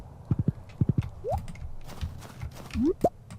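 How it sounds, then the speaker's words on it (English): Horse hooves clip-clop in quick clusters of steps while riding in the Stardew Valley video game, with a few short rising whinny-like sound effects in between, fairly close and clear. "Although I would hardly call it a stroll, you're on a horse."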